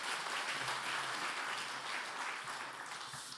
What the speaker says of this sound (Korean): 우리 장로님께 다시 한번 감사 박수 드리겠습니다